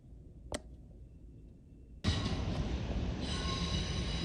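A Long Island Rail Road train rolls out of the yard: a quiet lull with a brief click, then a sudden loud, broad rumble and hiss as the train passes close by.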